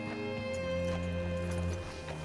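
Horse hooves clip-clopping at a walk in Red Dead Redemption 2, an even series of muted steps under a steady tonal music bed, with no talk.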